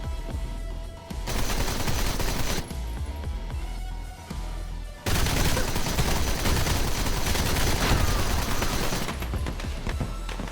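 Rapid automatic gunfire rattles in dense, sustained bursts from a video game, loud and continuous with brief pauses between volleys, layered over game ambience.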